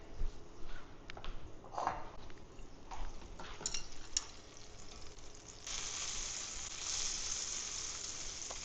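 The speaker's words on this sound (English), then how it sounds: "I love hearing that sizzle." Quiet frying of oil and butter in a pan for mushroom gravy, a soft crackling sizzle with a few utensil clinks, growing into a steadier hiss toward the end.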